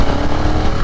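A BMW F900R motorcycle engine holds a steady, loud, close-up drone for under a second, with no talk over it.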